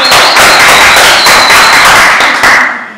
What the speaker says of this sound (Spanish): Señores, un aplauso a la señorita Violeta Isabel,